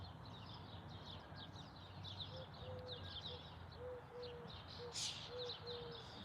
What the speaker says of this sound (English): Or you can listen to our birds.